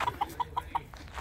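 A rooster clucks in a quick run of five short, evenly spaced calls, close and fairly loud, with no talking over them.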